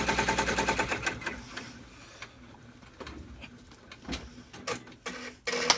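An embroidery machine stitching an in-the-hoop zipper clutch gives a quick rhythmic clatter that slows and stops, followed by scattered clicks and knocks nearby at low volume.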